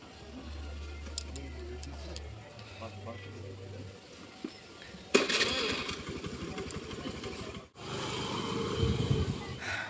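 A Rapido bike taxi motorcycle starts up and pulls away in Kolkata, its engine revving up loudly after a quiet stretch and running on nearby, with speech heard faintly in the background.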